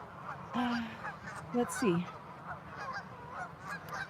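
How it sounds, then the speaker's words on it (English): Geese honk a few times nearby, loud nasal calls rising above quiet background, while a person briefly speaks. "I really don't want to get mobbed by geese"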